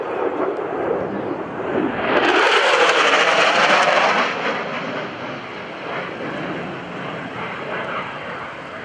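An F-16C Block 50 fighter jet with a GE F110-119 engine roars past at an airshow, a broad loud jet rush that swells to a peak and then eases into a sustained distant rumble, with faint voices beneath.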